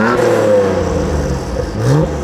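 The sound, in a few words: Nissan Skyline R34 revving through HKS titanium super muffler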